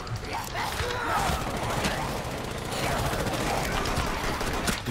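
Gunfire in the video game Rainbow Six Siege: dense, continuous bursts of rapid shots and crashing impacts filling the whole stretch at a steady loud level, with no talk over it.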